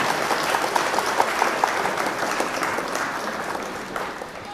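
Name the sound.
audience applause at mushaira poetry event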